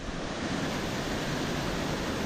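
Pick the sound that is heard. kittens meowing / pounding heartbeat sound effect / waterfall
waterfall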